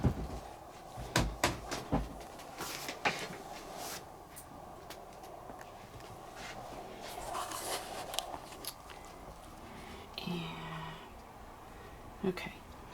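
A cabinet in a home studio is shut with a few quick clunks and knocks, followed by quieter rustling handling noises and a couple of later taps, all fairly faint.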